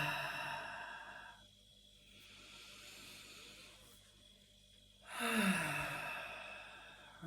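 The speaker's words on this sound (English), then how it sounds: "So just take 3 big deep breaths." A person taking slow, deep breaths during a calm guided relaxation: soft, airy inhales and exhales, close and quiet, with one stronger, louder breath near the end.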